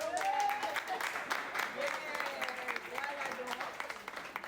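Applause from a crowd, steady and fairly close, with voices talking and calling out over the clapping throughout.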